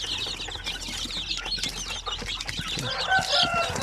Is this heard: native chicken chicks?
yes